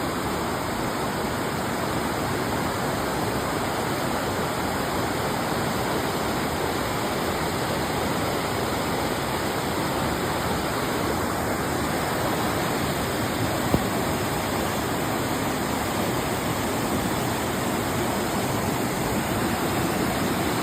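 Steady, loud broadband roar of river water rushing near Durga Falls by a small bridge outside Karkala, continuous and close throughout with no voices over it.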